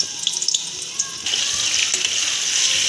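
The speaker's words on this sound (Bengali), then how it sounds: "এবার আমি পটলগুলো ভেজে নেব।" Pointed gourd pieces dropping into hot oil, first scattered crackles and clicks, then an abrupt, louder, steady sizzle that holds to the end, close by with no talking.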